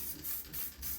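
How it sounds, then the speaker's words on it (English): A spray paint can hisses in short pulsing bursts while touching up rust on an old BMX seat post, close and loud. "I am going to use the spray paint"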